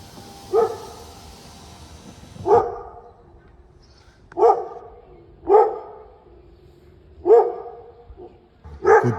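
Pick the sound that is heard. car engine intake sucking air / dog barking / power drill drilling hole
dog barking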